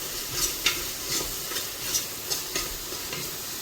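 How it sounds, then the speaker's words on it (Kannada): Coriander and mint leaves stirred and sautéed in a pot for chicken biryani, giving a steady soft sizzle with repeated light scraping strokes of a spoon, close and moderately quiet, with no voices. "ಸ್ವಲ್ಪ ಕೊತ್ತಂಬರಿ ಸೊಪ್ಪು, ಸ್ವಲ್ಪ ಪುದೀನ ಸೊಪ್ಪನ್ನು ಹಾಕಿ ಕಳಿಸೋಣ"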